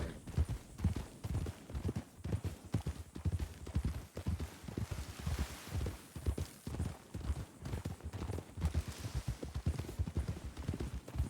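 Horse hooves clip-clop in a video game, a steady rhythmic run of close hoofbeats lasting throughout, with no voices over it.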